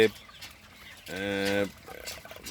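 Broiler chickens on a farm, a flock of around seven hundred birds, give a clear harmonic call lasting about half a second amid a low, steady background of clucking and murmuring. Brief speech-like voices or faint bird noises surround it.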